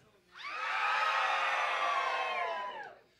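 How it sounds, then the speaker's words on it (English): A concert audience hollers along with a live band, a sustained loud crowd yell that swells in, holds steady for about two seconds and then fades out. "what that was a little bit of hollering"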